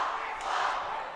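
A loud crowd fills a high school gym during a volleyball game, a dense roar of cheering voices in a short burst.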